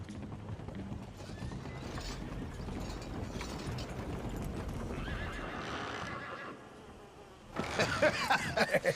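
Horse hooves clip-clop steadily at a walking pace in Red Dead Redemption 2, with a brief snorting whinny near the end and a faint buzzing in the background.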